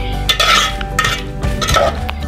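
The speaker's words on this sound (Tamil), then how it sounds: "இந்த மாதிரி நல்லா மிக்ஸ் பண்ணி விடுங்க." A utensil scrapes and clinks against a pan while chicken is stirred into pepper fry gravy, a few quick metallic strokes close up.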